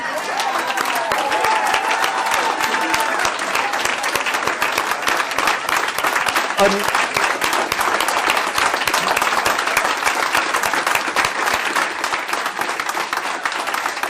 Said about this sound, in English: Pretty big applause, right?